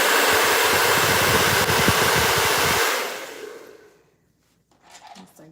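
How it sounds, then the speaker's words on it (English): A hair dryer blows loudly and steadily close by as it dries hair, then cuts off and winds down into near silence, followed by faint rustling. "I'm gonna try to dry it a little bit."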